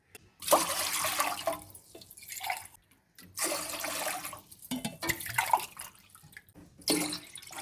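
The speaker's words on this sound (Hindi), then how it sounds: "तकरीबन मैं 5 गिलास पानी डाल चुकी हूँ।" Water is poured into a pot of rice for pulao in several long, gushing bursts, each stopping briefly before the next, close and splashy, with no talking.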